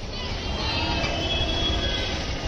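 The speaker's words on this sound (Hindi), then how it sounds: "ये यहाँ का मेट्रो है भाई" A metro train runs steadily with a loud, continuous rumble, faint wheel squeal and rail noise, heard close up from on board or at the platform.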